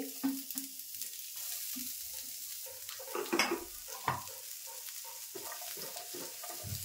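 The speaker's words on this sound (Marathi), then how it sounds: "आता कांदा मस्त भाजून घेते." Onion dry-roasts in a hot pan with no oil, a light crackling sizzle with intermittent stirring scrapes and a few sharper clatters against the pan, close and with no speech.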